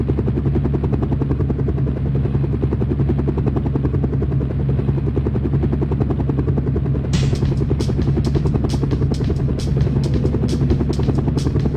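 Apache attack helicopter in the Sega Saturn game Black Fire, its rotor thudding loud and steady throughout, with sharp rapid bursts of gunfire crackling in over the final few seconds.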